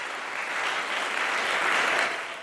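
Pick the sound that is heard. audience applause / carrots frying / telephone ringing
audience applause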